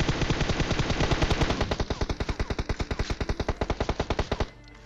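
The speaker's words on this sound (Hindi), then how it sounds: "हम दोनों एक साथ फायरिंग करना स्टार्ट करते हैं" Rapid automatic gunfire in a mobile battle-royale video game, a loud, evenly spaced burst of about forty shots over four seconds, stopping abruptly before a quiet tail.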